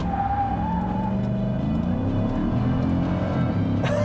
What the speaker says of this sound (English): I would never get tired of doing those little quick burnouts